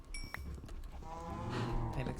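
A Minecraft cow moos in a single drawn-out low call that swells toward the end, heard beside a cow pen with a few brief game clicks and a chime just before it.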